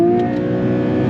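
A Porsche 992 GT3 sits held in first gear near its rev limiter, a loud, steady high-revving engine drone close up with a faint stuttering flutter running through it.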